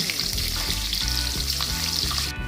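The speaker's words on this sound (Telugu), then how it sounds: "మనం వేసిన మసాలాలు బాగా వేగిపోయాయి. వేగిపోయిన తర్వాత కొన్ని ఉల్లిపాయలు వేసుకొని వేయించుకోండి." Onions frying in oil with spices for a biryani fill the clip with a loud, continuous sizzle, while a rhythmic stirring scrape repeats about every half second underneath.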